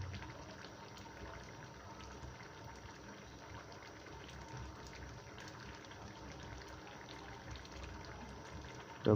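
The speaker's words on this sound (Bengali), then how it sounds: "বগিয়ে ফুটছে" Dal with drumsticks boils in a pot, giving a steady, soft, dense bubbling wash that runs evenly throughout without talking.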